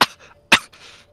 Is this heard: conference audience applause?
no